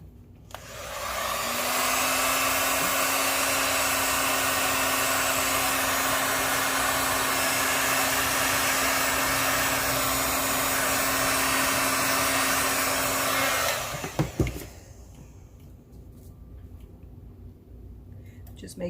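A heat tool blows hot air onto epoxy resin for geode coasters, a loud steady whooshing drone with a faint whine that runs about twelve seconds, then cuts off with a click into quiet.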